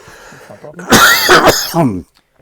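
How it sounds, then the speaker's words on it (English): A person with a cold coughs a few times in quick bursts, close and loud, with some speech-like vocal sounds just before. "And I'm going to cough."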